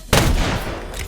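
A single sharp sniper rifle shot in an Xbox shooter game, loud and close, ringing out with a long decaying tail over the rest of the moment, with no talk over it.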